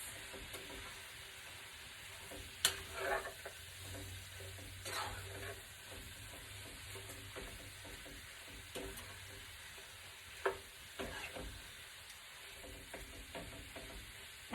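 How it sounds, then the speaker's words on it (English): Seasoned cabbage frying in a pan is stirred, giving a soft, steady sizzle with scattered scraping clicks and a few sharper utensil knocks, fairly quiet and close. "I now am stirring to incorporate everything together"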